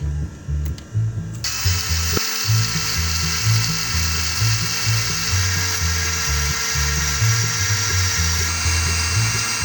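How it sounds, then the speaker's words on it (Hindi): An electric mixer grinder blends a milkshake sweetened with two tablespoons of sugar, giving a steady, loud, close motor whine with a low rattling churn that runs without a break. "अब मैं इसको हल्का सा ग्राइंड कर लूँगी।"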